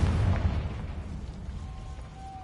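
A Confringo blasting curse explodes in Hogwarts Legacy, a loud low boom that swells at the start and rumbles away over a couple of seconds, with a thin tonal ring lingering near the end.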